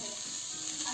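Onion frying in hot oil, a continuous crackling sizzle that stays even and close for a moment.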